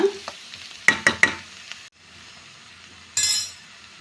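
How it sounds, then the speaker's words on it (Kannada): Onions frying in oil in a pan for egg bhurji, a steady sizzle with three sharp utensil clinks early on, a brief pause, then a louder hiss burst near the end. "ಸೊ ಈ ರೀತಿಯಾಗಿ ಆಯಿಲಲ್ಲೇ ಫ್ರೈ ಮಾಡ್ಕೊಳ್ಳಿ"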